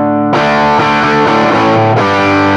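An electric guitar plays loud, sustained, overdriven chords through a Rook Audio Fortune Boost pedal, a thick, harmonically rich tone with a couple of fresh strums re-attacking the ringing sound.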